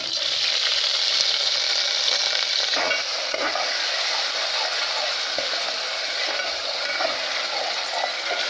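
Steady, loud sizzling of onion, garlic and ginger paste with cumin frying in hot oil, with occasional stirring scrapes, close and continuous with no talking.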